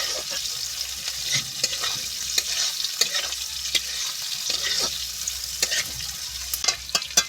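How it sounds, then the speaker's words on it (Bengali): Onion stirred and fried in a pan for a fish curry with potatoes: continuous hissing sizzle with frequent sharp scrapes and taps of the spoon against the pan, close and fairly loud, no voices. "পেঁয়াজটা দিয়ে এভাবে আমি ভালো করে নেড়ে চেড়ে কষাতে থাকবো"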